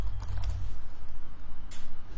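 Quick, steady keystrokes on a computer keyboard, a run of soft, evenly spaced clicks close by, with no talking over them.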